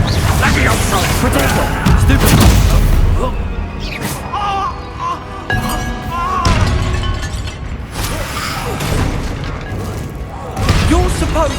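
Loud Confringo blasting-spell explosions and crashing impacts from Hogwarts Legacy combat, repeated bursts over dense game sound, with characters shouting spell names and lines throughout.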